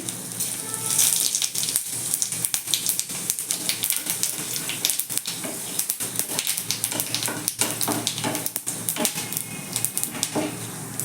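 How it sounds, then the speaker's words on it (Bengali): Panch phoron and chopped dried red chili sizzle in hot oil for a green mango chutney, a dense, close, continuous crackling hiss with scattered pops, heard alone without speech. "ওয়ান ফোর্থ চামচ পাঁচ ফোড়ন নিয়েছি এইটা আমি ফোড়নে দিয়ে দিচ্ছি"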